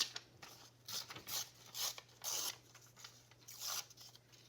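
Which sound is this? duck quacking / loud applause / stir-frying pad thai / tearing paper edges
tearing paper edges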